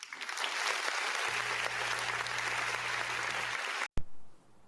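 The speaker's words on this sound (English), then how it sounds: "Give a round of applause for the monologue." A studio audience applauds a monologue steadily for nearly four seconds, a dense wash of clapping over a low hum, before the sound cuts off abruptly with a short thump.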